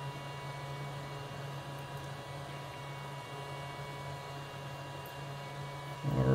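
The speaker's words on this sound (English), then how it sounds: "That little fan on this preheater is quite annoying" Small fan on a PCB preheater running during a graphics card repair, a steady low hum and hiss at low level that grows louder near the end.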